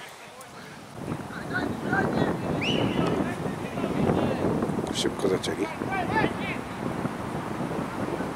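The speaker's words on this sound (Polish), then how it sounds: "wiatr wieje ostry" Strong wind buffets the microphone in a continuous rough roar at an outdoor football match, with voices shouting and chattering over it throughout.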